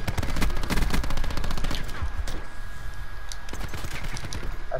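Video game gunfire from sniper rifles and automatic weapons, dense cracks and bursts in rapid, uneven volleys, loud and close at first, thinning into scattered shots later.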